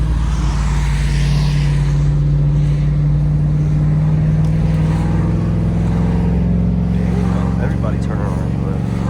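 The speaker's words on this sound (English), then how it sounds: "And yes, I be downshifting in this little automatic." A 2010 Mustang GT with an automatic transmission is driven on a city street, its engine droning loud and close as the pitch rises and shifts with downshifts and revving, with faint talking over the engine.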